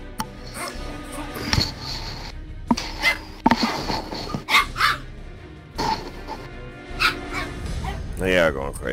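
Several dogs bark in repeated loud bursts and yips, with some whimpering, mixed among people talking over game sounds.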